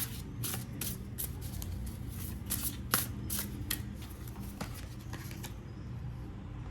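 Oracle cards shuffled by hand for a card reading, a steady run of quick riffling and flicking close by, fairly quiet, continuing for several seconds before easing off near the end.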